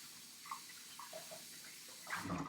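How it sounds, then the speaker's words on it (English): Tap water runs softly into a kitchen sink as hands are washed under it, a faint steady stream with light splashes that grows louder at the end. "got to wash the hands"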